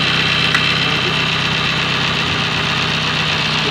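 A Toyota Corolla engine idles close up after its alternator plug is connected, giving a steady, even hum with a faint repetitive knock running through it and no talk over it.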